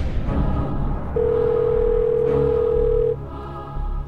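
A steady telephone dial tone holds for about two seconds over a murmuring TV game-show studio background, then cuts off.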